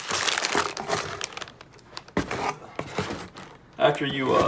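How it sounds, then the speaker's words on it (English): A plastic shipping bag for a hat crinkles as its adhesive strip is pulled off and the bag is sealed, with bursts of close rustling and crackling mixed with a person talking. "all you got to do is pull this little strip off, seal the bag so that no moisture gets in"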